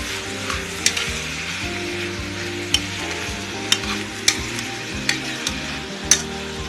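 Two sliced tomatoes fry and sizzle in a pan for a Kerala-style chicken curry, with a steady loud sizzle broken by repeated scraping clicks from a utensil stirring them.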